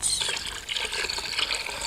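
Water poured by hand into a bathtub for a 1952 radio drama, a steady near splashing and gurgling stream with bright trickling detail that carries on throughout.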